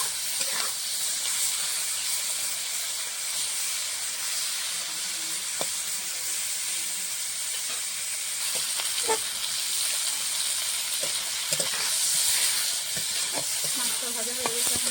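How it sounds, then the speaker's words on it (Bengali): Shrimp fry in mustard oil in a wok with a steady, fairly quiet hiss and sizzle, broken by occasional small pops and light clicks. "কড়াইতে মাছ ভাজার জন্য দিয়ে দিয়েছি সরষের তেল। এখন চিংড়ি মাছটা ভেজে নেব।"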